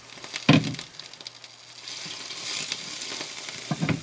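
Batter for salted caramel waffles sizzles steadily in a cast iron waffle pan, a close, continuous frying hiss with a clunk or two as the lid is handled.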